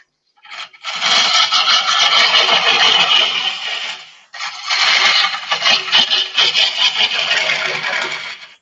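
Sharp gouge cutting hard, dried-out oak spinning on a lathe: loud, continuous rough scraping and chattering in two long bursts separated by a brief pause.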